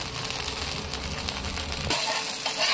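Nachni (finger millet) dosa roasting on a hot pan, a steady close crackling sizzle filling the whole stretch, with a faint scrape partway through.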